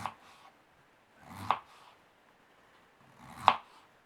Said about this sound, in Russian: Теперь нарезаем картофель кружочками, не сильно толстыми, но и не тонкими.